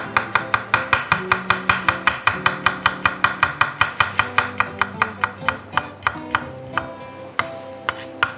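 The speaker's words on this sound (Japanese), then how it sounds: "さあまた合わせて刻んでいきましょう。" Garlic is minced with a knife on a cutting board in steady, rapid chops, roughly four per second, close and crisp, slowing and becoming irregular toward the end.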